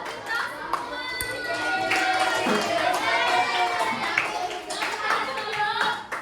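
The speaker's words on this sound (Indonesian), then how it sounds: "Tepuk tangan buat kita semua" Fifth-grade pupils in an elementary classroom clap together, a busy patter of hands over several seconds mixed with lively children's voices and chatter.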